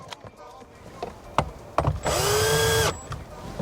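A power drill drives a bolt into a custom 12-inch subwoofer box in a C8 Corvette footwell, one close, loud, rising whir of nearly a second after a few knocks and clicks of handling.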